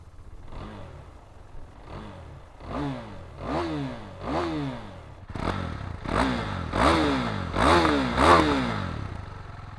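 A 2017 KTM Duke 390 single-cylinder motorcycle revving up and down repeatedly up close, each rise and fall growing louder and higher in a steady rhythmic series of throttle blips.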